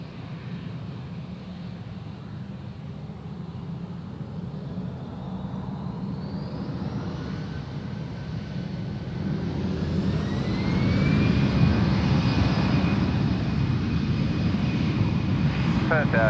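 AirAsia Indonesia airliner rolling for takeoff on runway 03 at Perth Airport, a steady jet engine roar that swells and grows louder as thrust builds, with a rising whine joining midway and holding.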